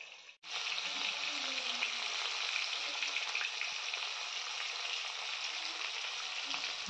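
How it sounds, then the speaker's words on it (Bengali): Koi fish fry in oil in a covered pan, giving a loud, steady, dense sizzle that sets in after a brief quiet start and carries on evenly with no talk. "তো এইরকম করে কই মাছগুলো ভাজতে হবে।"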